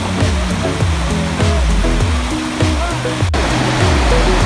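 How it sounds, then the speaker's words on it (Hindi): River water rushes beside a mountain road between Besham and Chilas in Pakistan, a loud continuous roar of flowing water up close, with someone talking over it. "आप ये पानी देख रहे हो किस तरह से आ रहा है"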